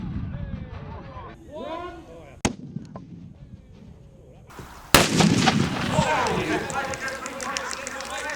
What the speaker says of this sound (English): Huge shell being fired out of our Mobat.